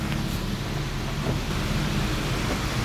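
Steady broadband rain noise drumming continuously on a car, dense and even throughout, with a low rumbling hum underneath.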